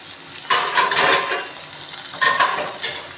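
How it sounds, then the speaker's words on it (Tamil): Onion and tomato sizzle and hiss in a hot pan for garlic kulambu, with two bursts of stirring scrapes standing out over the steady frying. "சேர்த்து நல்லா வதக்கி விட்டுக்கணும்"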